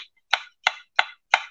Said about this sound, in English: You'll just get a flat sound like this.